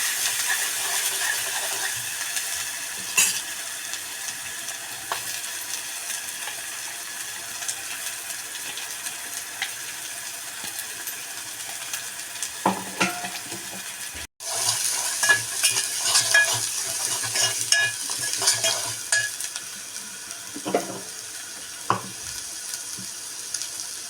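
Ground masala paste sautéing in a pan for an onion bhaji curry: a constant soft sizzle, then busier scraping and stirring in the second half, close and moderate in level, no speech.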